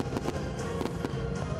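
Fireworks at a rural festival in Bukmyeon, Cheonan, Korea: a steady series of sharp crackling bursts and pops at moderate distance, repeating every fraction of a second over a continuous hiss.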